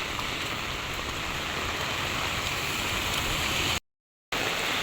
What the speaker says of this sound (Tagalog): Ay maulan po talaga.